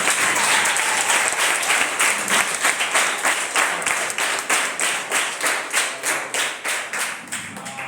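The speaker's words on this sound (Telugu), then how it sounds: "ఒకసారి జయశీల్ రావు కోసం గట్టిగా చప్పట్లు కొట్టండి." A gathered audience at a prayer meeting claps loudly for Jayasheel Rao, the sharp hand claps starting as a dense burst and settling into a rhythmic, evenly spaced beat that fades slightly toward the end.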